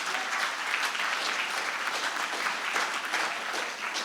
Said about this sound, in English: Can we get a round of applause for our brilliant technical support?